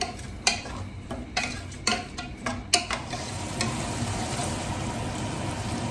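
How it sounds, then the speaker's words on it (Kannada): Onions fry in oil for chicken biryani, with sharp spoon scrapes and clinks against the pot over a low sizzle that settles into a steady hiss. "ಅಲ್ಲಿವರೆಗೂ ಚೆನ್ನಾಗಿ ಫ್ರೈ ಆಗಬೇಕು ಅದು ಎಣ್ಣೆಯಲ್ಲಿ"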